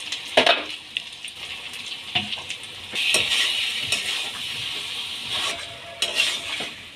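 Meat curry stirred in a pan after uncovering the lid, with repeated scraping and clinking of a spatula against the metal under a soft sizzle, moderately close.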